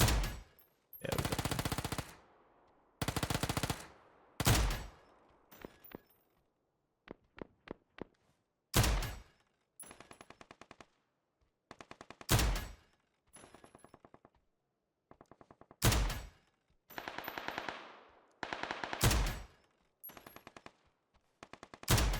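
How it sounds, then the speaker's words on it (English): Gunfire in PUBG training mode, loud bursts of automatic fire and single shots separated by short silences, some crisp and near, others more muffled. "we've got to guess where we're being shot from here using our headset"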